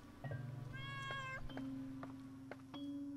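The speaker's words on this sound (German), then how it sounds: "Oh, guck mal, Kätzchen." A kitten meows in the horror game Layers of Fear: Inheritance, a few clear high mewing calls over a low steady hum, quiet and close with no talking.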